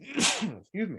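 A single sharp human sneeze bursts out close and loud, followed by a brief pause and a voice speaking.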